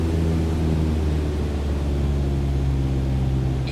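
Steady, close drone of a light aircraft engine throttled back to 1,800 RPM in Microsoft Flight Simulator 2020, a constant low hum with even tonal bands and no talking throughout.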